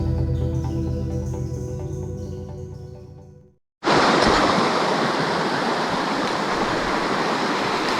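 Canyon Creek on the White Mountain Apache Reservation in Arizona, near a campground, rushes loudly and steadily after a short quiet gap, a close, broadband wash of flowing water with no voices.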